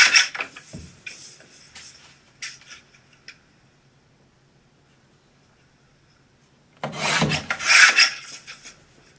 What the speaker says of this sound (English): We line them up very carefully on the paper cutter. Cut down the side of the ID cards.